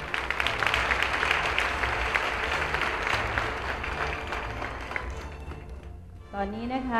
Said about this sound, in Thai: ขอเสียงปรบมือสำหรับพวกเธออีกสักครั้งหนึ่งครับ